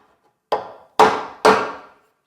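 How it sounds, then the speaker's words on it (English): A chisel pares a wooden joint shoulder down by hand during a garden room loft bed build, giving three sharp, close woody knocks about half a second apart, each fading quickly. "it's just as easy to just fashion it off with a chisel. So I'll just take this little shoulder line down a bit more"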